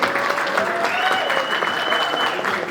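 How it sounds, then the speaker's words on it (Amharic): An audience applauding Tigist at an awards and thanksgiving evening, steady dense clapping throughout with a tonal musical line or voice carrying faintly underneath. "በታላቅ ምስጋናና በታላቅ ጭብጨባ አጨብጭቡላት ለትዕግስት"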